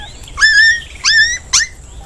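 A dog in a Hindi cartoon story gives three high, sliding whimpering yelps in quick succession, loud and close, over a quiet background with no talking.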